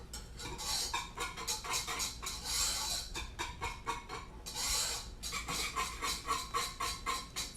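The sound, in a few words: utensil scraping a pot while stirring a thickening sauce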